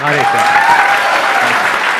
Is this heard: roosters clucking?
no